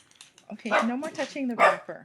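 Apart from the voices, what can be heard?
dog barking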